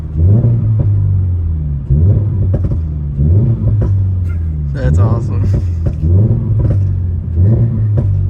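A 2024 Toyota GR86 with a Borla S-Type exhaust revs repeatedly in close, loud bursts, each rise falling back with rumbling pops and crackles; a person briefly speaks over the engine near the middle.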